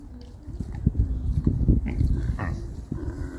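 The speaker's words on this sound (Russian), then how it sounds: "От удовольствия хрюкают, слушайте." Pigs on a farm at Versailles in France grunt contentedly in a string of short, low grunts and snorts heard close up.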